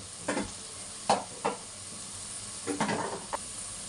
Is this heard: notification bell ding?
no